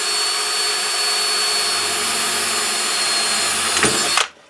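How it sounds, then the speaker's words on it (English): Power tool punching a hole through thin metal conduit for a flag pole, a steady loud whine held for about four seconds before a brief rattle and abrupt stop. "now this conduit is pretty thin, so as you can see, it's easy to punch a hole through there"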